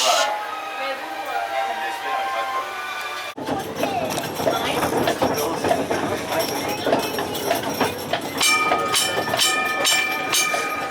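Hooves clip-clop steadily along with the rattle and creak of a passing carriage, amid a busy crowd murmur and chatter.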